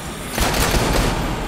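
A loud burst of rapid gunfire in the zombie video game Dead Rising 3, a dense rattling volley lasting about a second, heard alone.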